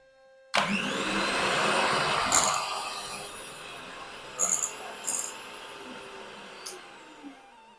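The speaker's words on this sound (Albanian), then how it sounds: "përsëri e rrahi mirë masën me mikser rreth 2 minutave" An electric mixer starts abruptly and whirs loudly while beating cake batter of milk and oil, a sustained motor whine that fades off, followed by a few faint knocks.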